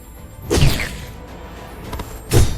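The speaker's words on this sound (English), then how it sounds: "I like that shiny sparkle sound." Sparkling chime effect from the video game Everwind, heard as short bright whooshing shimmers with soft thuds, two main bursts about two seconds apart over a low background hum.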